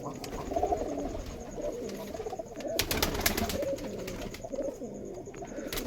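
Giribaj pigeons with long feathered feet coo steadily in low, burbling calls, with a brief burst of rustling or flapping in the middle.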